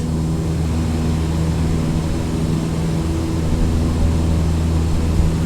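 Propeller aircraft engine in Microsoft Flight Simulator 2020 held at a steady, throttled-back drone around 2,300 RPM, a continuous low hum with a faint rise late on, no talking over it.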